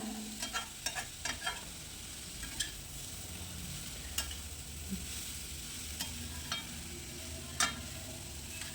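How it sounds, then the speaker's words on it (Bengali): Grated carrot being stirred with vermicelli in a pan, a soft sizzle running beneath scattered light scrapes and clicks of the spoon, quiet and close. "সেওয়ের সাথে গাজরটাকে ভালোভাবে মিশিয়ে নিচ্ছি"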